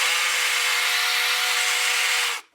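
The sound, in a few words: toy RC tugboat motor running out of water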